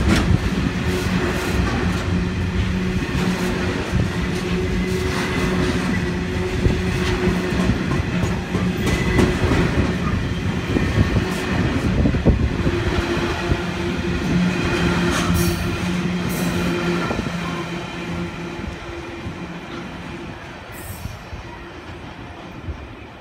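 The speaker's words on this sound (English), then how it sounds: "It is a coal train. Through platform 1 at EU Place." A coal train runs through platform 1 at Emu Plains station in Sydney's rail network, a loud, steady rumble of heavy wagons with rhythmic wheel clatter and squeal lasting throughout, easing slightly near the end.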